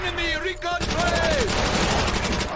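Thompson SMG firing in Call of Duty: World at War multiplayer, a loud rapid stream of automatic shots after a brief moment of voice, continuous bursts to the end.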